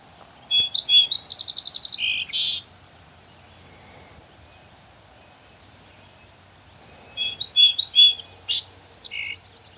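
A very tiny songbird at a campsite by a forest pond delivers two loud, rapid, high-pitched bursts of trilling song, each about two seconds long, separated by quiet, with no talking.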